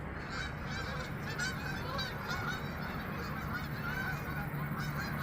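A large flock of geese honks continuously at sunset, many overlapping calls at moderate distance, steady and busy throughout with no talking.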